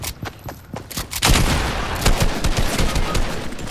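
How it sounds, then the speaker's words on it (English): Video game gunfire, a few spaced, sharp shots at first, then a dense burst of rapid automatic fire that keeps going loud and steady to the end. "Taking fire from the rear."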